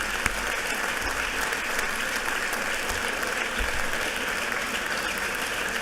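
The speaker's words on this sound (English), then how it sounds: "applause and shouts and whatever you want to do is not allowed" Applause in a legislative chamber during a House session, sustained and even clapping from many members, filling the room without pause.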